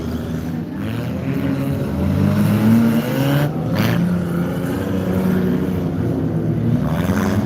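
Kid race cars driving around a track, a steady droning engine whine with shifting pitches as several cars pass, loud and continuous without speech.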